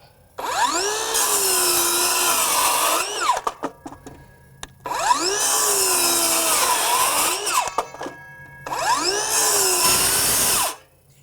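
A Greenworks 24-volt 7-1/4-inch brushless circular saw cutting wood, three loud whining bursts of about three seconds each, every one rising as the blade spins up and bites the board, separated by short quiet pauses.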